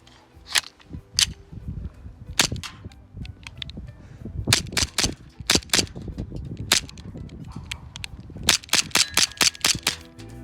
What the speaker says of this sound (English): this thing is shooting about 350 to 330 FPS with a .20 gram BBs.